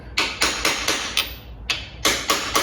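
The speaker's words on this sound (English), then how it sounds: "the one time he's actually trusting me with a dead blow hammer and a VW engine" A dead blow hammer strikes a VW engine being assembled for a race car, giving a steady series of about nine sharp, close, loud knocks in an even rhythm with a brief gap midway.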